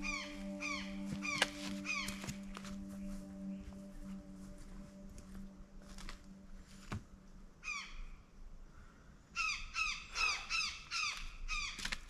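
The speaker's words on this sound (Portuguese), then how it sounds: "E ao som da gralha azul" Repeated harsh, rasping calls of an azure jay ring out in short bursts, some in quick runs, over a steady low hum and background noise.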